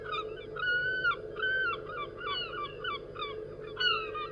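Repeated squealing, mewing gull calls in a series of drawn-out cries over a low steady hum, no talking.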